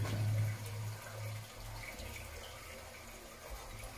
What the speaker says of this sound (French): On voit l'eau dans le tuyau couler.